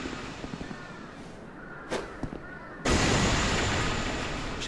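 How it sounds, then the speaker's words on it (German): A few faint pops and a sharp crack, then a sudden loud magic bomb blast in Dark Souls 2 that settles into a sustained roar and slowly fades. "Schauen wir mal, ob vielleicht diese magischen Bomben funktionieren. Explodiert."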